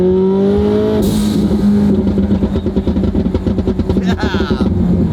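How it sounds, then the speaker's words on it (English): A powerful twin-turbo V8 revs hard and accelerates, its roar rising and then breaking into a rapid, pulsing rumble with crackling pops. "Who's enjoying the sound of this insane twin turbo V8?"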